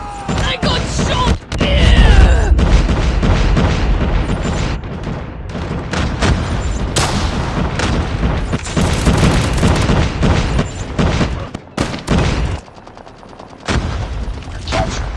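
Video-game gunfire crackles in dense, sustained bursts with heavy booms throughout a firefight, loud and near, set within shooter game audio, with voices talking over the action.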